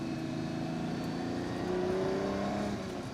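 A Lamborghini Countach 25th Anniversary with its 5.2 liter V12 engine revs from inside the cabin, a steady loud drone with rising and falling pitch as the engine climbs, no talking.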